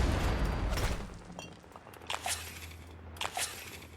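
Rockets fired at the player in a video game come as a dull rumble and then two sharp bursts about a second apart, each with a crackling tail, fairly close and loud over quiet background.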